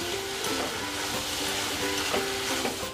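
Egg tarka dal being sautéed in a pan with coriander leaves, a steady close sizzle of frying with soft scraping stirs running throughout.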